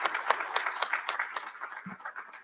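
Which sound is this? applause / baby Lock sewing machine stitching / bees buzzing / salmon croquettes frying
applause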